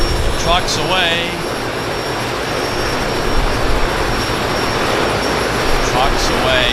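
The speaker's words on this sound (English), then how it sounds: "the Twin Otter closest to me is doing an engine run up." de Havilland Twin Otter floatplane doing an engine run-up at a harbour airport, a loud steady propeller-turbine roar heard from close by across the whole stretch, with brief chirps on top.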